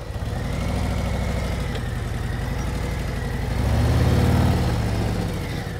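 Motorcycle engine idling and turning over at low speed during slow-speed riding practice, a steady mid-low hum that swells slightly in loudness near the end, with no talk.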